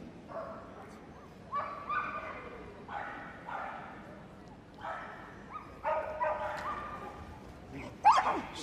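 A dog barks and yips in short repeated bursts during an agility run at Crufts, fairly distant in a large indoor arena, with a commentator talking over the barks and crowd noise.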